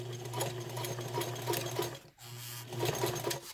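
A sewing machine stitches down a fabric strap with a steady mechanical whirr and rhythmic needle clatter, pausing briefly midway before running again, close and loud.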